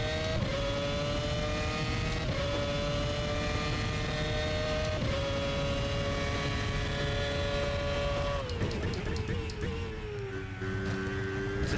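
Race car in the rFactor sim racing game, loud and steady engine drone with repeated rev rises and gear shifts, close and continuous with no talk over it.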